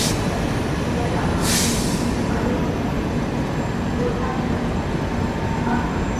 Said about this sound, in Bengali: আমাদের সামনে আছে যোগনগরী ঋষিকেশ হাওড়া দুন এক্সপ্রেস